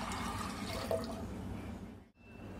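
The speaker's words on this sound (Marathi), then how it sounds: "आता आपण याच्यामध्ये पाणी टाकूयात" Water pours steadily into a pressure cooker holding peas that have soaked for eight hours. The gurgling stream runs close and even, then cuts off abruptly near the end.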